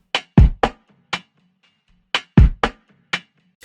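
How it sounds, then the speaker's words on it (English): Choppy gated drum loop from a beat made in Reason 12, with short punchy hits abruptly cut to silence in uneven clusters, loud and dry with no talking. "what I did to get that sound is I applied a gate to the drum loop"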